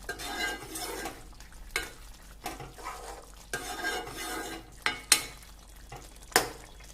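A thick shallot and bitter gourd thokku simmers in a pan while a spoon stirs and scrapes repeatedly against the metal, with a soft sizzle underneath and a few sharp clinks of utensil on pan.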